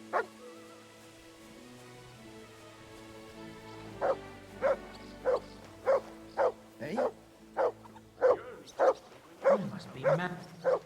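A dog in the medieval game Kingdom Come: Deliverance II barks about a dozen times in a steady run of sharp, close barks, after a stretch of game ambience and a man's brief speech.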